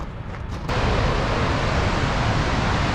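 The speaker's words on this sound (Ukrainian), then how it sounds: "Уже навіть звідси з паркінгу чути, який шумний цей водоспад." Iceland's largest waterfall, a powerful torrent dropping 32 metres into a river, rumbles as a steady broadband roar from the parking lot and swells louder after a brief quieter start.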